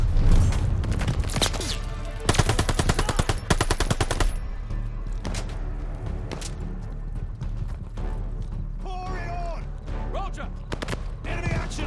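Machine gun fire rattles in rapid bursts during a World War II combat firefight in the video game Operation Tonga, loud and dense over explosions and battle noise, with shouted voices in between.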